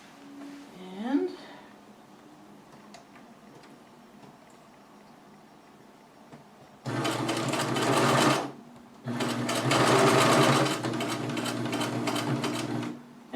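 A sewing machine stitches a fabric mask in two loud, steady whirring bursts, each lasting a couple of seconds with a short pause between them, after a quieter stretch with brief talking and small handling sounds.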